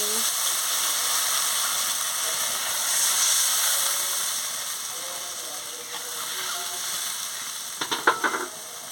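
Steady loud sizzling and hissing as water hits a hot pan of eggplant curry, continuous and close, ending with a few brief clattering stirs.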